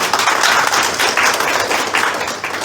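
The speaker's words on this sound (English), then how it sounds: "Let's give you a big round of applause" A church or seminar audience gives a big round of applause for a man in the crowd, dense continuous clapping that stays loud and close, with no voices over it.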